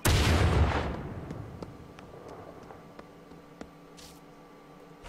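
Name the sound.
C4 explosive blowing open a crate, from video game The Culling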